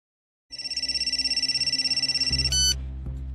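A telephone rings with a loud, rapid electronic pulsed trill for about two seconds, then cuts off, leaving a low hum.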